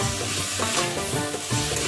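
Loud, close sizzling of potatoes and spices frying in a pan, with scraping stirs running throughout.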